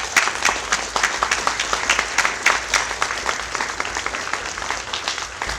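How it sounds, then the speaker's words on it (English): An audience at a Mortal Kombat 25th anniversary panel breaks into sustained applause, many hands clapping steadily at moderate loudness, with no talking over it. "so give a round of applause for Lia Montelongo"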